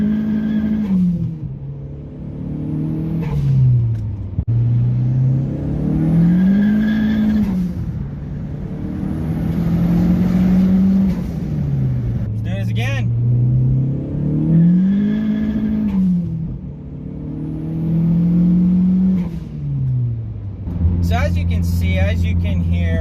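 A car engine revs up and down repeatedly in steady cycles as Toyo Proxes R888R tires spin in second gear, its drone rising and falling over and over, with a voice briefly talking over it.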